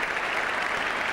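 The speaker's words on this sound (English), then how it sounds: "So the applause around the ground also for this 100 partnership" Dense, sustained applause from a large crowd at a cricket ground during a 1979 World Cup match between Australia and England, filling the whole moment evenly with no talk.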